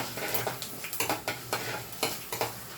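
Tempering seeds dropped into hot oil crackle and pop in quick, close bursts over a low steady sizzle, with no one speaking.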